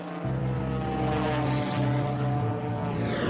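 A Russian Yak propeller airplane on its takeoff roll, engine droning loud and close with a steady rising hum and buzzing propeller overtones throughout.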